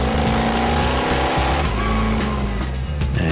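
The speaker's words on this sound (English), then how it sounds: "It's such a great car to drive, you know, it just screams at you, literally, you know, the noise is like somebody screaming at you." Batmobile engine roaring loudly and continuously while the car is driven, a dense, harsh mechanical drone with rising and falling revs and no talk over it.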